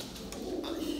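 Pigeons in a backyard coop give a brief low coo, close by, with a faint voice in the background.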